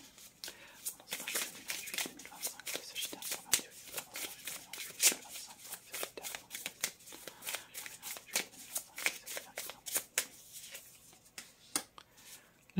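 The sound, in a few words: tarot cards being shuffled before drawing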